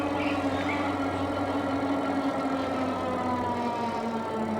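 A Rattan Pinus dual-battery electric bike climbs a steep town hill on throttle alone, its 80 Nm hub motor producing a steady mid-pitched hum under continuous wind and road rumble, with no voices.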